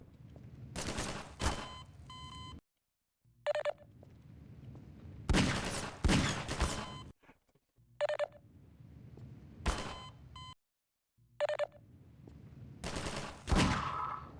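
Bursts of enemy gunfire in Half-Life 2, loud clusters of rapid shots separated by brief silences, repeating several times across the stretch with no talking.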